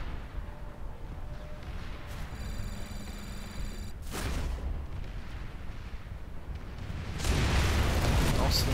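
Grenades go off in the Planetside 2 video game. Bursts of gunfire and blasts punch through a constant rumbling battle backdrop, and one sharp blast near the middle is followed later by a louder, sustained eruption.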